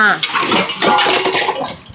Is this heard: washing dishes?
yes